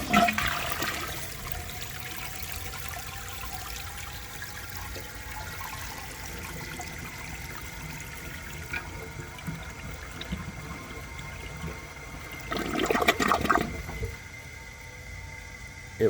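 A 1973 Eljer Emblem toilet flushes with a gurgling rush of water, then runs on quietly before a weak siphoning surge near the end. It is heard close up and alone.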